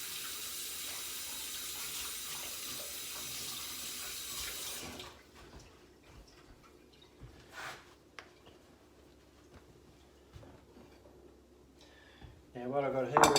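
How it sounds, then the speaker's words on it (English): A kitchen tap runs in a strong steady stream for about five seconds while hands are rinsed, then stops, leaving quiet room sounds with a brief voice and some clatter near the end. "rinse my hands."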